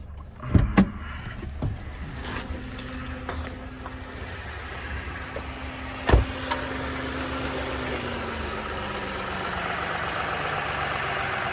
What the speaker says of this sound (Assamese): পেট্ৰল ইঞ্জিন হয় গাইজ অলপ নৰ্মেল চাউণ্ড